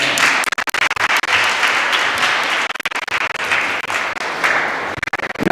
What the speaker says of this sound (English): May we have an applause to the mayor